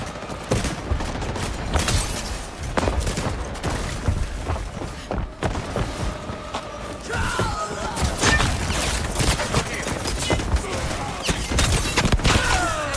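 Heavy gunfire in a shooter video game, dense overlapping shots and thuds in a chaotic continuous barrage, loud and close, with busy battle noise layered throughout.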